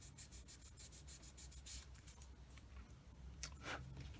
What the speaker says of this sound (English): Sand it.